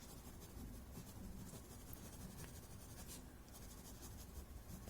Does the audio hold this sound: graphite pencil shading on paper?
yes